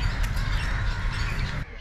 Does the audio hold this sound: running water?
no